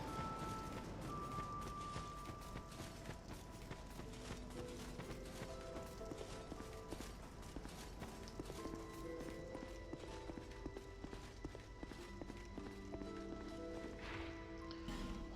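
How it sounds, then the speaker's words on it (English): Hoof footsteps of pig creatures in Dark Souls 2, a faint, steady clip-clop patter running throughout beneath a quiet mechanical, tonal game soundscape. "That's not horses, those are just the piggies."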